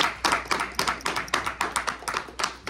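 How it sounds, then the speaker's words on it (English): A Primitive Baptist Sunday school congregation claps in praise inside a church, a steady run of sharp, evenly spaced hand claps in quick rhythm with no talk over them. "Give God a hand clap of praise"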